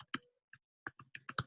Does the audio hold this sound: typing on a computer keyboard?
yes